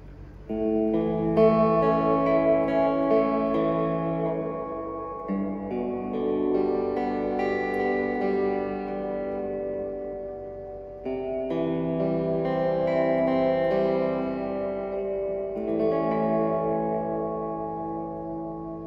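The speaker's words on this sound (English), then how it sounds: "now go to level 3, that is the large hall effect" Sustained chords pass through a Fender Reflecting Pool pedal on its large hall reverb setting, each phrase blooming into long, washy tails that overlap the next at moderate volume, with no talk.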